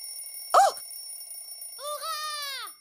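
In a kitchen in a cartoon, an alarm clock gives a short, sharp ring, then a longer warbling electronic tone sounds, clear and close.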